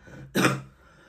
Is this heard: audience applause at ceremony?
no